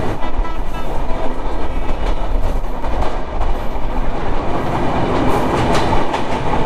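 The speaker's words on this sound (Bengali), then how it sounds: "নাভারণ স্টেশনে কিন্তু এই ট্রেন বিরতি করবে না" The Rupashi Bangla Express runs through Navaran station without stopping, heard from aboard as a loud, steady rumble with the rhythmic clickety-clack of wheels over rail joints throughout.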